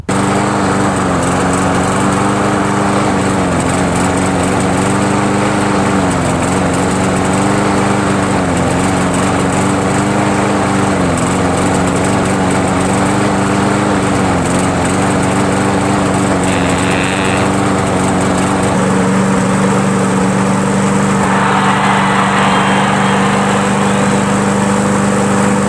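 Craftsman lawn mower with a Briggs & Stratton 6.75 Quantum engine and auto-choke carburetor, running rough and rich: a steady, loud engine drone with wavering pitch and a brief shift in tone near the end, no talk.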